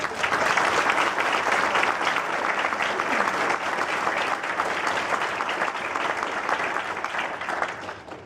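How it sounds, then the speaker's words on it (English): Sustained crowd applause after award presenters with Grandmasters Murata and Hyun, honoring guests at a martial arts event, steady and loud for about eight seconds before easing slightly at the end. "Can we give these guys a nice round of applause?"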